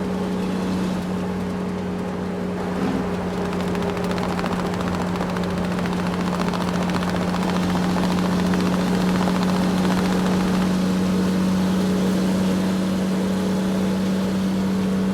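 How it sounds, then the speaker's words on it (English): A dump truck's engine runs continuously nearby, a loud, steady low drone with a rapid throbbing pulse underneath and no pauses or voices. "Dump truck."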